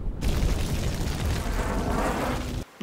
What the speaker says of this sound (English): He caused the explosion in an attempt to drive the beasts off